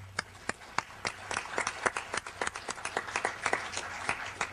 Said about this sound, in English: they deserve a very, very warm round of applause